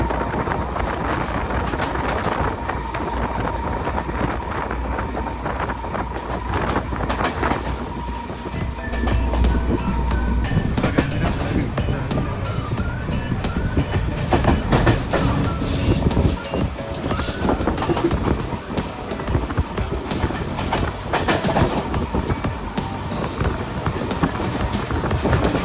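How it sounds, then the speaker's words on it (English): A train speeds along the Badulla to Colombo line in Sri Lanka's upcountry, a loud rolling rumble with rattling carriages and bursts of clatter and screech throughout, no voices. "And now train is going so fast"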